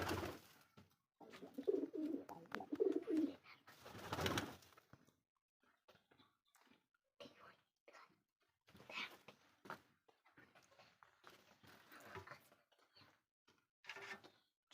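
Pigeons kept by a hobbyist coo softly in a quiet setting, low murmuring calls in the first seconds followed by scattered faint rustles and small knocks.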